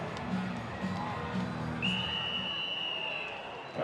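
Rodeo crowd cheering and whistling for a rider, a steady roar of voices with a long sustained whistle rising over the hubbub midway.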